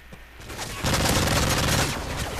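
Dense automatic gunfire from Call of Duty: Modern Warfare 3 multiplayer, a sparse shot or two giving way to a loud, sustained close-range fusillade of rapid bursts that holds for the rest of the stretch.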